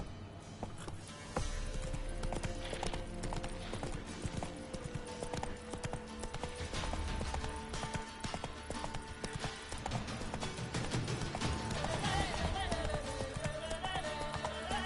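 Roach the horse in The Witcher 3 trots steadily, clip-clop hoofbeats repeating throughout amid dense game music and ambience, with a brief whinny-like cry near the end and a voice talking over part of it.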